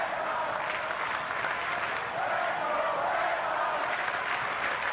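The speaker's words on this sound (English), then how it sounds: "Red Sox crowd in full throat as Nava fouls it off again" Red Sox crowd at a Boston ballpark roaring and applauding during a 2012 game against Tampa Bay, a dense, steady wash of cheering with a faint voice under it.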